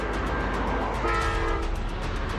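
A freight train in Anchorage, Alaska, rumbles loudly and steadily, and its horn sounds partway through over the ongoing rail noise, heard from close to the tracks.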